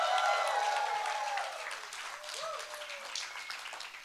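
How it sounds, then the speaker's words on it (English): An audience claps steadily after a closing performance at an art event, dense applause that starts loud and eases slightly with faint cheering mixed in. "Let's give them our loudest cheer,"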